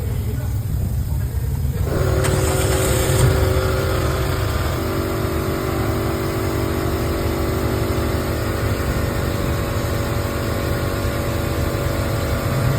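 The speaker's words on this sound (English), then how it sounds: "So now I'm going to start the engine." A car engine cranks and catches, then settles into a steady idle hum that continues for the rest of the clip.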